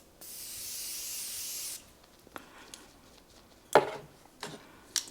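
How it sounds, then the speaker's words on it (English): Setting spray misted onto a face in one continuous hiss of about a second and a half, close and soft, followed by faint handling taps and clicks. "So let's go ahead, spray our face."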